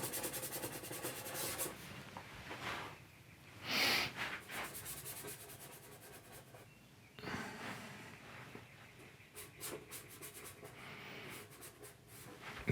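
A paintbrush scrubs oil paint onto canvas in soft, close, rhythmic rubbing strokes, faint and dry, with brief pauses between bursts.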